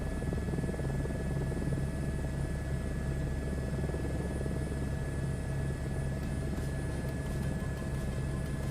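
Helicopter in Microsoft Flight Simulator 2024 cruising at about 100 knots, a steady, loud rotor and engine drone with a low throb that runs unbroken throughout, with no talking.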